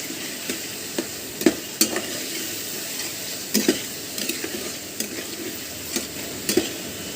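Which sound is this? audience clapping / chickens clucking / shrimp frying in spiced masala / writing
shrimp frying in spiced masala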